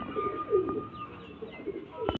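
Young pigeons coo in a short run of soft, low murmuring notes, fairly close, with a faint steady hum underneath and a brief sharper sound near the end.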